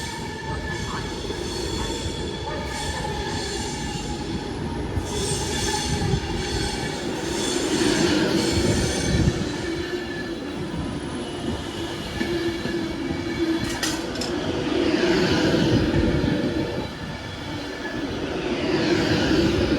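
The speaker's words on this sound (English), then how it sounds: "got Pendolino arriving" A Class 390 Pendolino train rolls into London Euston, a loud continuous rumble of wheels on rail with rising high squeals from the wheels as it slows into the station.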